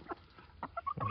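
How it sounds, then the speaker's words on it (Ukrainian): A chicken clucks in short, separate bursts on a farmyard on a summer day, close by and moderately loud, with no talk over it. "Курка."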